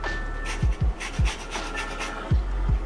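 Citrus peel being rubbed over a grater as zest for tuna wonton tostadas, heard as a few close, short scraping strokes in an uneven rhythm against low background hum.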